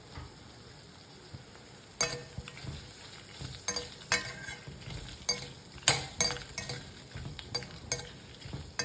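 Onion and dried red chillies slowly frying in a pan, a continuous gentle sizzle punctuated by repeated clinks and scrapes of a spoon stirring against the metal, close and clear with no talking.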